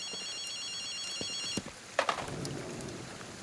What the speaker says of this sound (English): Do I hear a phone?